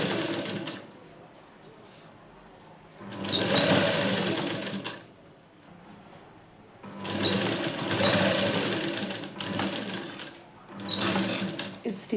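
A sewing machine stitches the front part of a plain blouse in two long bursts of rapid, whirring needle action, separated by quieter pauses, with a voice speaking during the breaks.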